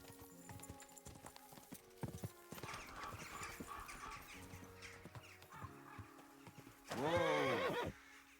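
A horse in Kingdom Come: Deliverance II clip-clops with steady, fairly close hoof steps, then gives a loud, drawn-out neigh near the end; there is no talk.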